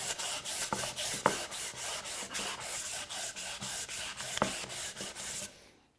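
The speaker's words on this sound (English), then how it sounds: "hit that with a little bit of sanding" Steady back-and-forth sanding on torched wood, rhythmic rasping strokes roughly twice per second, close and fairly quiet, with a few small knocks before it stops.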